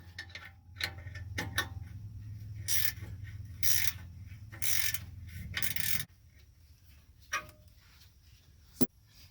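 A ratchet wrench loosens a 13mm bolt on the mount holding the DPF lines during a 5-inch MBRP exhaust install, clicking in several short quiet bursts, then fading to faint scattered clicks.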